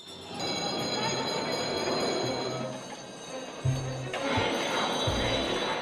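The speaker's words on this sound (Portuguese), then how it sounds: "Com o toque de um sino, o leilão começa." A bell rings to start a tuna auction at a fish market, a bright, sustained metallic tone over a murmuring indoor crowd, followed by a few dull thuds.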